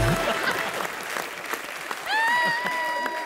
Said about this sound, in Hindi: रणिता जोरदार तालियां हो जाए